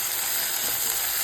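Ivy gourds fry in hot oil for amla pulihora, giving a continuous even sizzle heard up close, with no voices.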